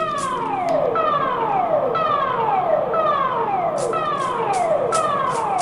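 A loud wailing Siren Head siren in Minecraft sweeps downward over and over in a steady repeating cycle, dominating the clip with no talk.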